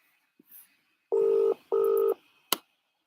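Two long electronic ringing bursts in quick succession, a brief pause between them, followed by a short sharp click; faint background noise.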